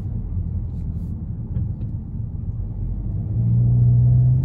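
A Volkswagen Golf 8 GTI driving on a public road gives a steady low engine and road rumble from inside the cabin, swelling slightly louder toward the end as the car picks up pace.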